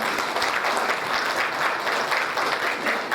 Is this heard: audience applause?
yes